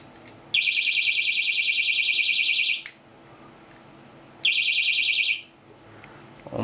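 A YOLO fishing bite alarm, a small clip-on device fixed to a fishing rod, gives two loud, shrill electronic buzzing bursts close up, the first about two seconds long and the second shorter, with a pause between them.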